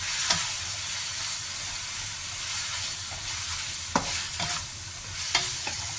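Snow peas, wood ear mushroom and chicken are stir-fried in a pan, giving a steady, soft sizzle broken by a few scraping strokes of the spatula, with no talking.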